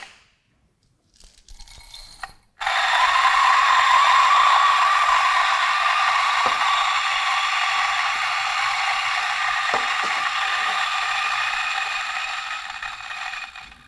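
A Coffee Tech DF64V Gen 2 coffee grinder runs in a steady, loud whirring grind for about eleven seconds after a brief start-up, then tapers slightly as the burrs near empty, with no talking.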